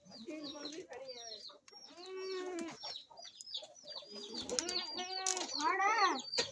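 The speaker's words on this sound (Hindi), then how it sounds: "मुर्गियां खड़ी है तीन मुर्गी खड़ी है" Three hens cluck and squawk close by in a series of short, rising and falling calls, with bursts of louder cackling toward the end and a faint voice at moments.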